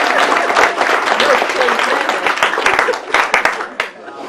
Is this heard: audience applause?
yes